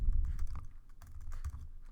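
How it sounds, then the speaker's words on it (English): Typing on a computer keyboard while entering price values into a Python program, a quick irregular run of muffled key presses close by, with no talk over it. "my typing is not good, I'm sorry"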